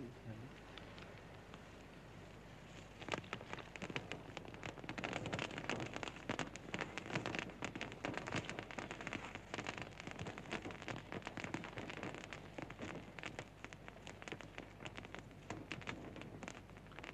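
A big wood fire burns with dense, irregular crackling and popping over a steady hiss, starting soft then growing busier and louder after a few seconds, set in a dry desert landscape.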